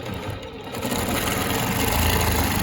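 An older-model longarm quilting machine stitching a Baptist Fans pattern with rulers, a loud, steady, rapid mechanical whir with a fast stitching pulse, close and continuous throughout.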